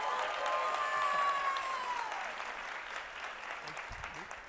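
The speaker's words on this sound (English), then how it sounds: "Let's give these gentlemen a big round of applause." An audience at a conference gives a round of applause, the clapping strongest at the start and gradually thinning and fading, with a brief electronic tone or feedback sweep audible early on.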